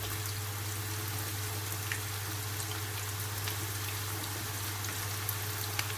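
Eggplant slices frying in hot oil at medium heat give a steady, fairly quiet sizzle with faint crackles throughout, alone under a low constant hum.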